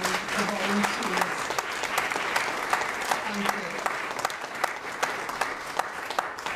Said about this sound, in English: I hope you would join me in clapping the team and the volunteers.